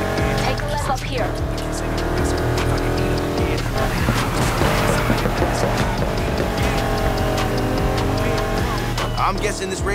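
Race car engines roar continuously in the Need for Speed Heat video game, a loud, sustained high-revving drone with tire noise, mixed under game music and background effects.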